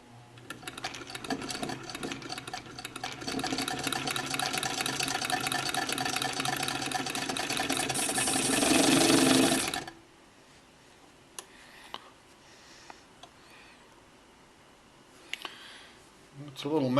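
A vintage Hamilton Beach Galonia shuttle sewing machine runs loudly and steadily for about ten seconds with a dense mechanical whir, then stops abruptly, leaving a quiet room with a few small clicks.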